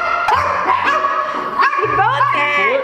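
A dog gives several excited yips and short barks, close and loud, mixed with whimpering, while people talk over it indoors.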